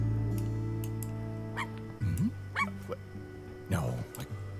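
Small dog Sparky whimpering and yipping in the video game I Am Dead, a few short rising whines over a steady hum of game music, moderately close.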